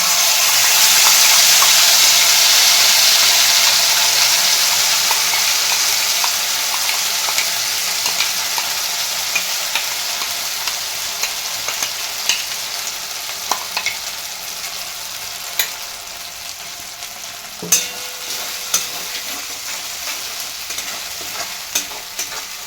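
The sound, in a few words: ginger, chilli, tomato, cashew and poppy seed paste frying in pan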